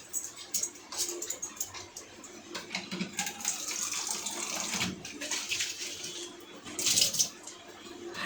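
A bottle fills with water running from a tap at home, making an uneven splashing gurgle that rises toward the end. A person talks over the water.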